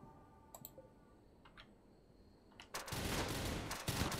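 Gunfire in the RimWorld video game aimed at a hole in the ground, starting as a few scattered clicks and shots, then becoming a loud, dense sustained volley over the final second and a half.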